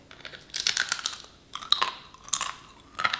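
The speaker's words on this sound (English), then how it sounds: "And you guys can hear just how crunchy it is when I take a bite out of it." Several sharp, crisp crunches from biting into a crunchy dehydrated meat chip, close and loud, coming in three separate bursts of chewing with short pauses between them and no talking.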